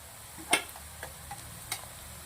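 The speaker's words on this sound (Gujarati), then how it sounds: "ડુંગળી મરચાં લસણ આદું બધું શેકી દેવાનું છે" Onion, chili, garlic and ginger sauté in a pan with a soft, low sizzle, marked by a few light spoon taps and scrapes spaced about half a second apart, close by and quiet.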